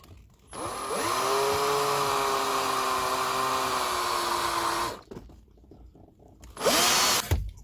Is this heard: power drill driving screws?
yes